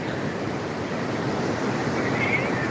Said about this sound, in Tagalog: High tide kaya malalaki yung alon